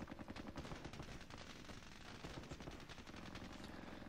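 Rapid gunfire in a squad battle video game, dense repeated bursts of shots in a fast, steady rattle, faint and continuous over the full stretch, with no talking.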